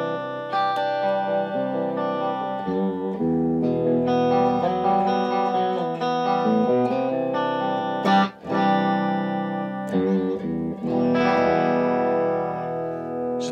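A Rhinehart S-style electric guitar with Zexcoil pickups in single-coil mode plays sustained chords and melodic notes with a bright, slightly effected tone, loud and close, with brief pauses between phrases and no talking.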